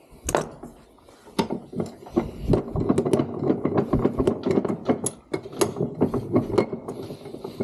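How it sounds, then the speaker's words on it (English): A ratchet turns a 10mm socket to tighten the solenoid on a starter motor clamped in a workshop vise, giving rapid close clicks in short bursts with brief pauses between strokes. "grab a 10mm socket and nip up the solenoid"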